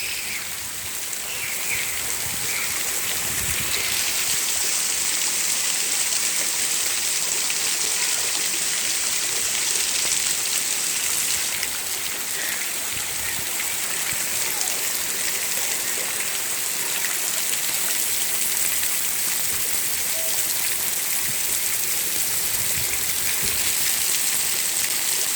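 Steady rain falls outdoors on a muddy, puddled ground, a dense continuous hiss of drops with a constant loudness throughout and no talking.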